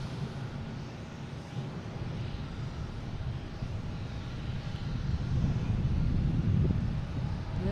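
Distant jet rumble from a JetBlue airliner arriving from JFK at Boston Logan International Airport, a steady low roar with wind buffeting that swells slightly louder toward the end.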